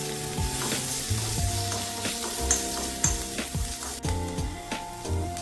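Thinly sliced onions and curry leaves frying in oil for a Kerala sadya masala curry, a loud, dense, continuous sizzle with stirring scrapes and clinks of a utensil against the pan.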